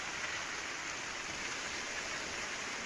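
Heavy monsoon rain in Uttarakhand and Himachal Pradesh pours as a dense, steady hiss, even and unbroken throughout, moderately faint with no voices.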